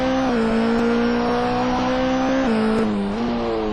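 A race car at a round held at Donington pulls away from the pit lane after a pit stop, its engine holding a steady, loud buzzing drone with slight shifts in pitch as it drives on.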